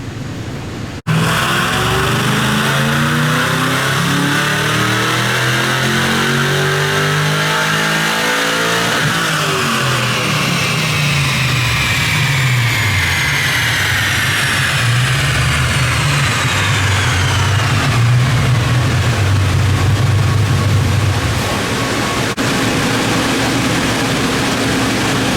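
A supercharged fifth-generation Chevrolet Camaro SS roars through a full-throttle run on a dyno, its engine note climbing steadily in pitch over many seconds, loud and close with a whining top end before easing off.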